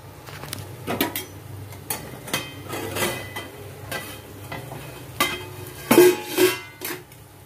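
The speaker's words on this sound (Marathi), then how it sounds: "आता आपण झाकण काढून घेऊया।" Metal lid lifted off a pan of chickpea masala, with clanks and scrapes of cookware and a soft sizzle underneath, several sharp knocks near the end, close by.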